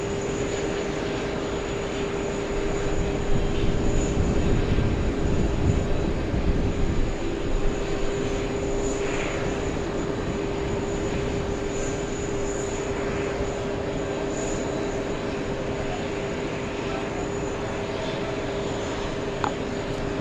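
An Uzbekistan Airways airliner rolls along the ground at JFK airport, its steady engine drone and broad hum sustained throughout, loudest in the first half and easing slightly later, with no talking.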